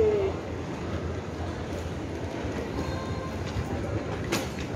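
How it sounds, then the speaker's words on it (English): Airport underground train at SeaTac rumbling along its track below the terminals, a continuous close rolling drone with brief squeals and clicks near the end. "take the underground train below to go to the"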